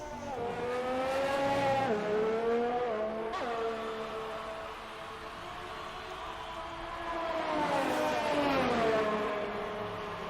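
A Renault race car in a racing video game drives a lap at Abu Dhabi, its engine whining steadily with rising and falling pitch through upshifts and downshifts, loud and continuous with no talk.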